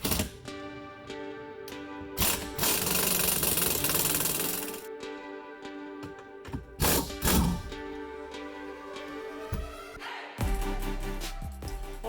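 A pneumatic air tool loosens bolts on a Mercruiser Alpha One Gen 2 transom assembly in loud, rattling bursts, with two long runs and several shorter hammering spurts separated by pauses and clanks.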